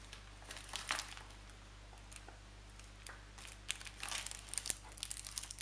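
Foil packaging from a vintage Polish dry ration is handled and torn open, giving intermittent crinkling and crackling bursts that grow busier toward the end, close but quiet, no talking.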